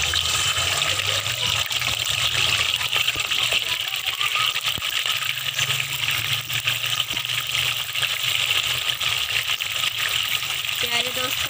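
Chicken pieces frying in hot ghee for biryani, a steady broadband sizzle and crackle that runs loud and continuous throughout, with faint clinks and a low hum beneath.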